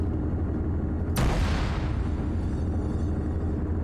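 A single loud cannon blast booms close by in the Arma video game, a sharp burst that rolls away into a fading rumble over a steady background hum.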